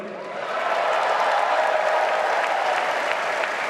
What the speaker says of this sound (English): Why are people cheering about?